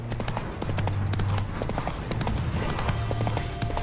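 A horse gallops in The Witcher 3 video game, its hooves pounding in a quick, steady clip-clop over a busy background of ambient game sound.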